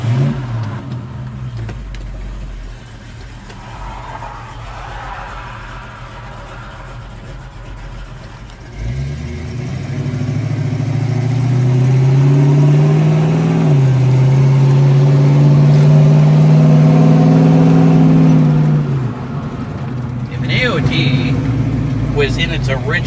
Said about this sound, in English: We're gonna take you out for a little road test so we can actually show you the difference in that.